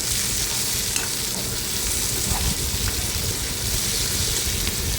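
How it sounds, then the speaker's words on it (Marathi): Chopped tomatoes sizzle loudly in hot oil in a pan while a mung dal and onion dish cooks, a constant close frying hiss with faint soft stirring scrapes and no talking. "टोमॅटो घातले तेही परतून घेऊ व्यवस्थित"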